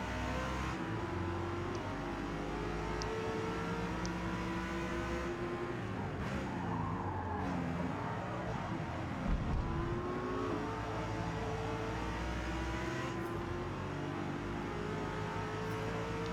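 Racing cars roar continuously around the Daytona circuit in Forza Motorsport, a Lexus RC F among B-class cars, with engines revving and shifting through gears, steady and loud, with occasional tire noise.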